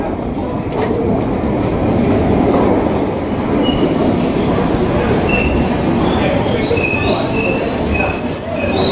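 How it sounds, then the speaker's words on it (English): A London Underground train rumbles loudly into a station, wheels squealing and screeching against the rails over a constant roar. "Here comes my train."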